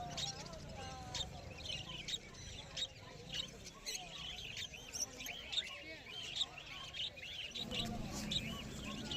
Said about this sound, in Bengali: প্রচুর পরিমাণে বদ্রি পাখির কালেকশান আছে